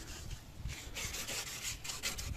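Wet sanding of Fiat Albea body trim parts with 800-grit sandpaper and water, producing repeated scratchy rubbing strokes in a steady back-and-forth rhythm, close and moderately loud with no talking.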